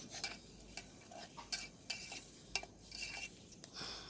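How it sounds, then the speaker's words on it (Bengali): Chicken masala with chili and turmeric is stirred and fried for khichuri, with a soft background sizzle broken by repeated scraping and clinking of a spoon against the pot at irregular intervals, close but fairly quiet, with no talking. "এখন এটা ভালো করে মশলাটা কষাইয়া"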